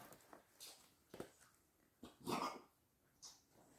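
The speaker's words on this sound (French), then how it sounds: "C'est un bulldog français, elle fait énormément de bruit" A French bulldog gives several short, faint barks and whimpers, spaced irregularly and heard from nearby in a quiet room.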